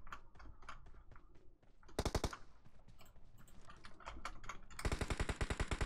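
Bursts of automatic gunfire from an enemy player in the mobile battle-royale game PUBG Mobile, rapid sharp shots in several volleys, with a louder, closer stretch of fire at the end.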